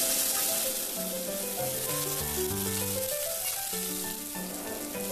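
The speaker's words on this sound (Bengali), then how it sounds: "এবার এই মশলাগুলো তেলের মধ্যে দিয়ে দিলাম।" Black and white mustard seeds with green chili paste sizzling in hot oil, a steady hissing fry running throughout at moderate level, with an underlying tonal drone alongside.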